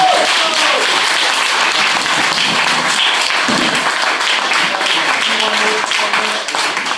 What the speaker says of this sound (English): another round of applause for Mike